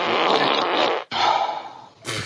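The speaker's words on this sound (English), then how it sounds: "asking me for an angry fart" An angry-sounding fart noise from an Alexa smart speaker, loud and sustained with a brief break partway through, then a short harsh burst at the end.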